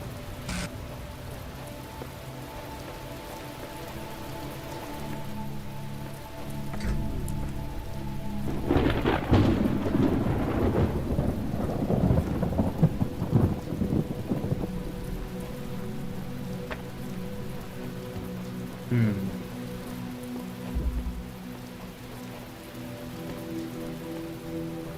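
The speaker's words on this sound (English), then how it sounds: "Raining again?" Steady rain falls in the game The Talos Principle while a long, deep roll of thunder swells up partway through and rumbles for several seconds before easing back into the hiss of rainfall.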